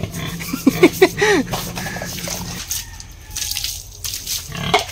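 Pigs grunt and squeal loudly near the microphone while being scrubbed with a brush, with a soft rubbing and scraping texture under the animal sounds.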